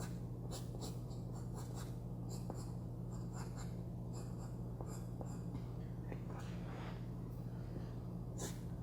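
A pencil scratches short strokes and lines on paper while desert cacti are drawn, soft and close against a steady low hum, with no speech.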